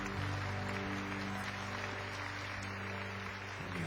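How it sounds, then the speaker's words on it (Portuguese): Congregation applauding in a church after the Gospel reading at a Catholic Mass, a steady broadband wash of clapping lasting several seconds with a low organ or keyboard tone sustained underneath. "Vamos aplaudir a palavra de Deus."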